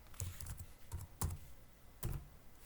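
Python code typed on a computer keyboard: soft, close key clicks in quick irregular bursts with a few heavier thumps of the larger keys, faint and without any voice.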